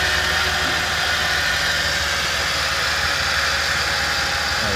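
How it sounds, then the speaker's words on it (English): A 2011 Jeep Liberty with a 3.7 liter V6 idling after a cold start, a steady, loud, close engine drone with even vibration and no talk over it. "Another cold start."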